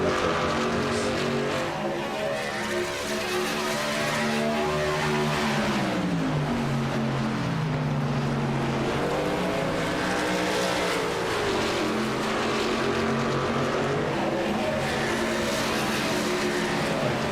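A racing truck roars around a track during qualifying for the VSpeed Contender Series, its engine rising and falling loudly through repeated gear changes and passes for the whole stretch, with no talk over it.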